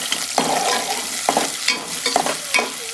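Cloves and bay leaf frying in a pan with chilli and onion while a spoon stirs them, steady sizzle with repeated scraping strokes, close and clear, no voices.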